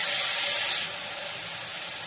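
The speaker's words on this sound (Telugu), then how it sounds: "పాలకూర అయితే వేసేస్తున్నాను." Spinach is dropped into a pan of onions frying in oil with turmeric. A loud, steady hiss and sizzle starts at once, then settles slightly while it keeps going.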